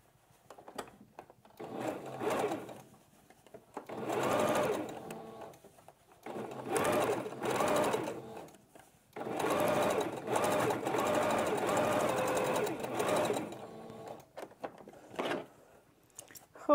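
Sewing machine stitching the inner fabric of an N95 mask, a close rattling whir running in several bursts of one to four seconds separated by short pauses, with faint speech between runs.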